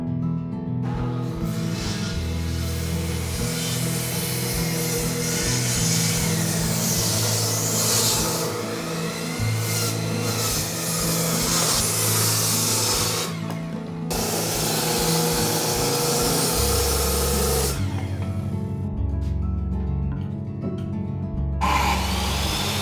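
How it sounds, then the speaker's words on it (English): Large circular saw cutting wooden columns in a workshop, repeated loud bursts of a high-pitched whining blade biting through timber, separated by short pauses and steady motor hum, close and dominant. "I first align the lengths of the columns and cut all of them with a large circular saw"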